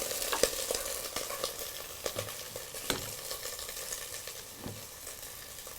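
Onions fry in oil on high heat, giving a continuous quiet sizzle broken by soft scraping stirs and small pops, with no talking.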